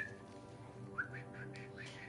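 Enemies whistling to each other in The Last of Us Part II, a few short, faint whistle calls over low game ambience.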